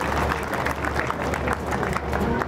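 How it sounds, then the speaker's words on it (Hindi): Audience applause on the final day of a mahayagya religious ceremony in Gohana, a dense, steady burst of many hands clapping together, loud and sustained. "जोरदार ताली बजा दे इनके लिए।"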